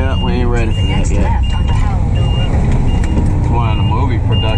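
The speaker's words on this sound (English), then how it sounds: "It's one of the movie production trucks" Reversing beeps from a movie production truck repeat in a steady rhythm at close range, mixed with engine rumble and traffic while people talk throughout.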